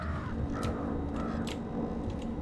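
Crows cawing in the stealth video game Thief, a few short bright calls at scattered moments over a steady ambient background hum, moderately distant.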